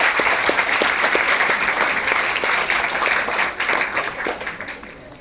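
An audience gives loud, sustained applause at the Kavi G. H. Patil award ceremony, dense clapping that stays steady and then eases slightly toward the end.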